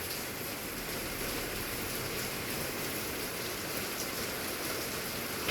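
The first rain of the season falls in San Mateo, California, a steady, even hiss of drops on surfaces that holds constant throughout, with no voices.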